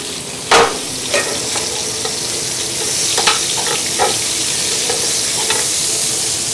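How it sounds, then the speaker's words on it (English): Peppers and shallots sizzle in a hot pan, a loud, steady frying hiss broken by scattered crackles, pops and a few clicks from stirring, with no voices. "I'm going to start with adding the peppers and my shallots"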